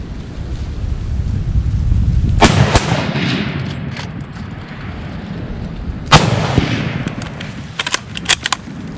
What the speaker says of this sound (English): Jeremy, you shooting the one looking at us.